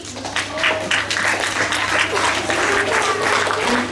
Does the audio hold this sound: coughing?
no